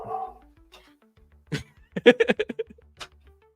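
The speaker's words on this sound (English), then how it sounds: "my dog is barking us up a storm" A dog gives a few short yips and barks, with a whimpering whine at the start, close and fairly loud, spaced out over a few seconds indoors.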